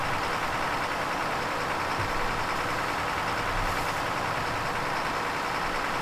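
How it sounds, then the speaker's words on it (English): A lorry engine in Farming Simulator 2015 runs with a steady, droning hum at a constant pitch, continuous and even throughout, fairly faint, with no voices. "This lorry was quite loud the last time I used it, so hopefully it sounds okay."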